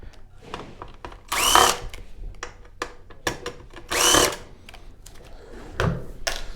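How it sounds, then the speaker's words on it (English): A power screwdriver whirs in two short, loud bursts to remove screws from the Wi-Fi board of a Sony XBR-65X900E television, with light clicks and handling noises between them. "We're just going to get these 2 screws away,"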